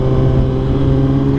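A group of motorcycles riding together, a loud continuous engine drone with steady low humming tones held for the whole moment, no speech.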